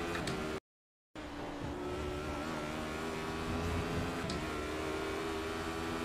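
Race car engines drone and pass in the iRacing sim, a continuous mid-level whine with brief tire squeal, interrupted by a short moment of silence near the start.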